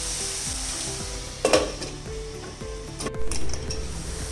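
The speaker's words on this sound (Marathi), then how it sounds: "आता यामध्ये आपण टोमॅटो घालूया. आता हे चांगलं मऊ होईपर्यंत परतायचं." Tomatoes and onion sautéing in a pan for bread upma, a steady loud sizzle with a hum, broken by spoon-stirring clinks and scrapes against the pan.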